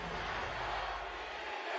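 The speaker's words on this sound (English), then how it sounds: "You can hear the roar of the crowd once more." Large crowd roaring in a League of Legends Worlds 2022 quarterfinal esports arena, a dense, sustained wash of cheering that fills the whole moment.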